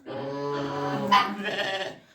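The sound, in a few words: sheep bleating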